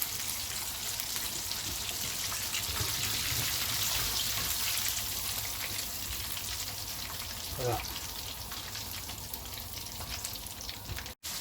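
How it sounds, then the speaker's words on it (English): Dense, continuous bubbling and crackling of chicken deep-frying in hot oil, steady and fairly loud throughout. "The third batch is frying nicely."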